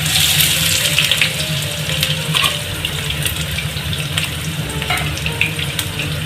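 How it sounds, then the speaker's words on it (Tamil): Onions hiss and crackle in hot oil for a chicken fried rice, a steady, dense sizzle running unbroken and fairly close, with no voices over it. "இப்போ நம்ம எண்ணெய் ஊற்றிக்கலாம். இப்போ பாருங்க, வெங்காயம் போட்டுக்கலாம்."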